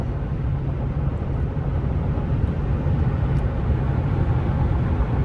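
A 2018 Toyota Tundra SR5 pickup truck engine accelerating drones steadily with deep low rumble, a constant loud hum throughout with no voices.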